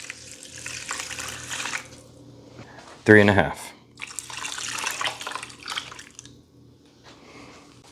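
Water, 3.5 cups, pours in a steady rushing stream into a Ninja Combi cooker, stops briefly while a voice speaks a few words, then pours again before trailing off.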